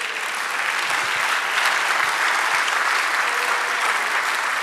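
A church congregation applauds steadily and loudly during a Spanish-language sermon, a dense, even wash of many hands clapping together with no break and no voices over it.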